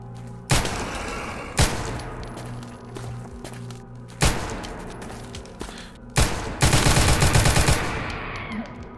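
Gunshots in the Doom-engine game Total Chaos, played through GZDoom: several single sharp, loud reports spaced a second or two apart, then a quick rapid-fire burst, with faint game ambience between.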